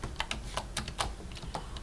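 Quick irregular keystrokes on a computer keyboard during a precalculus lesson on composite functions, a dozen or so close, crisp clicks in an uneven rhythm, with no talking.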